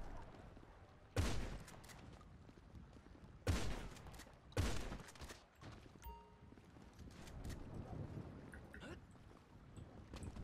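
A 12-gauge shotgun fires in GTA 5 during a zombie mode set in a heavy snowstorm: three loud, sharp blasts spaced over a few seconds, set against steady wind and game ambience.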